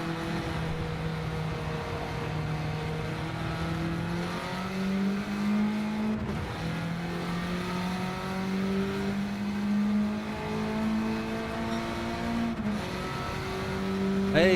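A racing car engine from a video game holds a steady, buzzing drone that rises and falls as it shifts between gears and revs, running continuously with no voices.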